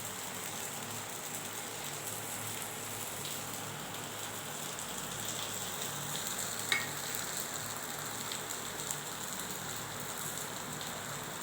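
Ghee sizzling in a pan while paniyaram fry, a faint, steady crackling hiss like light rain with a couple of small pops, continuous and without talking.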